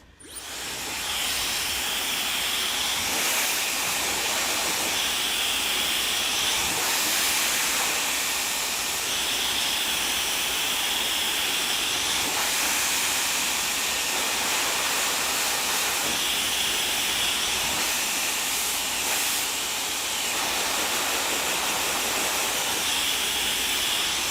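A hair dryer blows steadily during round-brush styling, a loud continuous airy rush with slight pulsing changes as the nozzle is angled, close by and with no talking.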